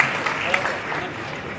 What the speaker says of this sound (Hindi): स्वागत करेंगे हम उनके शब्दों का जोरदार तालियों के